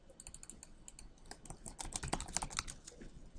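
Fingers type on a computer keyboard to enter a Google search, a close run of quick irregular key clicks that grows busier and louder midway.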